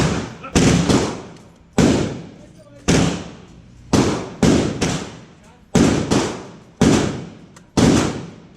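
Gunfire at an indoor shooting range, eight loud sharp shots spaced about a second apart, each ending in a short echoing decay, with people talking between them.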